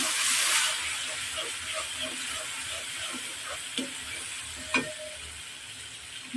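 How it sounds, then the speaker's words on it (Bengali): Garlic paste hits hot oil in a pan of frying bitter gourd, giving a loud, close, steady sizzle with a hissing burst at first and a few light clinks of a utensil. "রসুন বাটা দিলাম"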